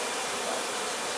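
Honey bees buzzing during a hive relocation, a dense continuous hiss-like drone of many insects close by, with no voices.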